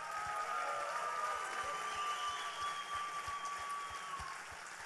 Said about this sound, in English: How about a hand for all of our delegates?